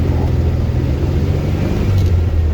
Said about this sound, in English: as you can hear, the idle is still a bit high